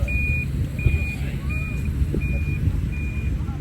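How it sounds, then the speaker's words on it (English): A truck rumbles past outdoors with a low, steady engine drone, while a series of five evenly spaced high beeps like a reversing alarm repeats nearby. "Truck going by there"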